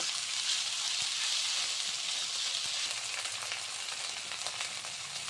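Spices and vegetables sauté in hot oil for a banana stem curry, a soft, continuous sizzle close by with a couple of faint utensil taps.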